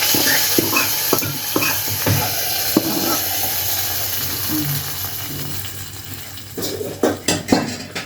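Utensils clink and scrape against a pan several times, then a short sizzle rises as a hot oil tempering with browned onions is poured into lentil curry, ending in clattering stirs.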